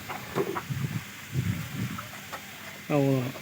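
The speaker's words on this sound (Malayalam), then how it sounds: "കോഴിയൊക്കെ നല്ല ഹാപ്പിയാണ്" Hens cluck in short bursts close by in a coop, followed by a louder drawn-out squawk toward the end, with faint talking mixed in.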